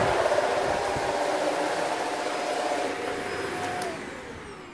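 A Shark DuoClean Powered Lift-Away upright vacuum cleaner runs close by with a loud, steady motor whine and airy rush that eases slightly toward the end, with no voices.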